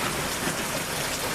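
Steady rain falling outdoors on surfaces near a small fire of tinder, a dense continuous hiss with no pauses.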